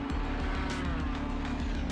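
Race car in iRacing at Circuit Gilles Villeneuve hitting the wall, a loud steady engine roar with a sharp thump at the start, continuous and close, with no talking.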